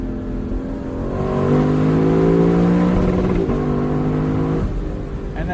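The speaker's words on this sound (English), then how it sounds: "That has got to be one of the most intoxicating rev limiters on sale today." A Lexus car engine revving hard up to its rev limiter, a rising smooth roar that holds near the top and wavers as the limiter cuts in, heard from inside the car.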